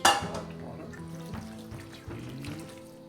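Hot boiling water is poured into a paella pan, a soft, continuous trickling splash heard close but quietly, with no voices.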